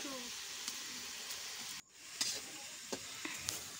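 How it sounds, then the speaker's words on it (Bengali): Duck meat sizzling lightly with spices in a pan, a steady close crackling hiss broken by a brief dropout and a few sharper pops, with faint voices underneath. "তো মাংসটা একটু মশলার সঙ্গে হালকা পরিমাণে ভেজে নিচ্ছিল।"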